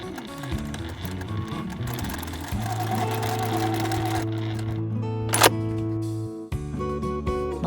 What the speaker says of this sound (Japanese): 端の方をミシンで縫います。